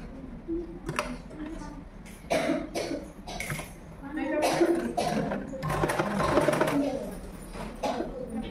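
A sewing machine stitches the folded half-inch hem of an umbrella frock in short whirring bursts, broken by pauses, with someone talking and a cough heard between runs.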